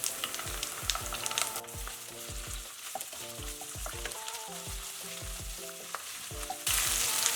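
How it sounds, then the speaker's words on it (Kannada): Ginger garlic paste frying in oil with browned onions and three slit green chillies for beetroot pulao, a steady sizzle with faint stirring clatter, close and continuous, no voices. "ಶುಂಠಿ ಬೆಳ್ಳುಳ್ಳಿಟ್ಟು ಹಸಿ ವಾಸನೆ ಹೋಗುವವರೆಗೂ ಹುರ್ಕೊಳ್ಳೋಣ."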